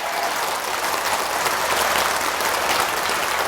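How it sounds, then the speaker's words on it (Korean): A dense, steady wash of applause from an audience at a Buddhist monk's talk in Daegu, sustained evenly throughout with no speech over it. "이 박수 소리가 뜨거운 관계로"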